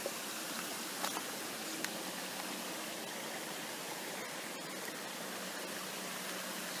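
A little woodland creek crossed by a concrete pipe flows steadily, a faint, even rushing wash with occasional soft splashes.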